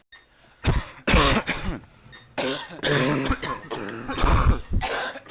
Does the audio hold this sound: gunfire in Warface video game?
no